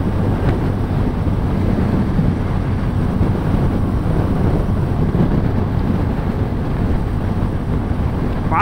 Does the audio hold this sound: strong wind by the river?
yes